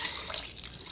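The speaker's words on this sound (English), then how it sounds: "Now you just want to add water to just soak the rice." Water is poured onto washed rice in a pot to soak it during outdoor cooking, giving a steady, close splashing rush that runs unbroken for the whole moment.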